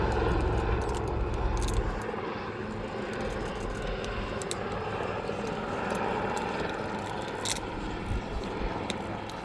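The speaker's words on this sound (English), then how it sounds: "here it is, on the roll, the Avro Anson Mk1" Engines of an Avro Anson Mk1 vintage aircraft rolling at the RAF Cosford Airshow, a steady propeller drone at moderate distance with a heavier rumble at the start and crowd noise faintly beneath.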